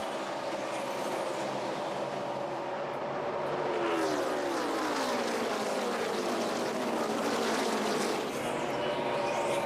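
NASCAR Sprint Cup stock cars race at Pocono Raceway, their engines roaring continuously with rising and falling pitch as they pass, loud and close, with no voices.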